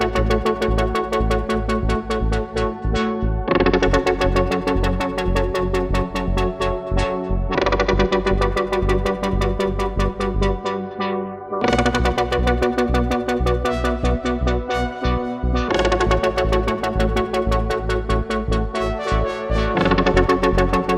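Synth chords and a lead melody in an electronic drop play together without drums, sustained chord blocks shifting every few seconds beneath a bright plucked line, loud and full.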